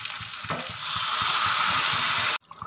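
Warm water is poured into a sizzling pan of browned chicken and potato curry. A loud, steady hissing roar builds over the sizzle, then cuts off abruptly, leaving quieter bubbling. No one speaks.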